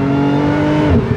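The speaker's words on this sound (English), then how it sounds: "you can hear that supercharger whine" Loud, close engine of a Lotus Evora supercar with a sustained supercharger whine riding over the revs, holding steady before dropping as the car shifts at the end.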